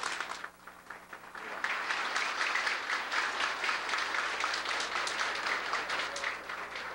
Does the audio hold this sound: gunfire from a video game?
no